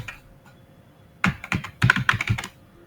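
A computer keyboard is typed on while entering code, with quick bursts of clicking keystrokes after a quiet start, close and fairly soft.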